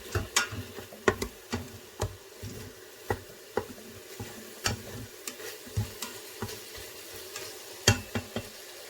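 Beef browns in a pressure cooker while a spoon stirs it, giving repeated sharp clacks and scrapes against the pot in an uneven rhythm over a continuous sizzle, close up and without talk.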